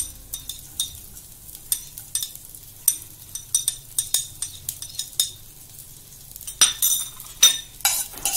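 Black cumin seeds and chopped garlic crackle softly in hot oil while a metal spoon scrapes and clinks against the pan in irregular bursts, the taps growing busier near the end.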